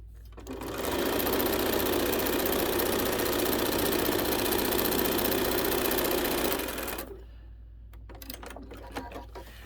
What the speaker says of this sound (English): so let's sew these on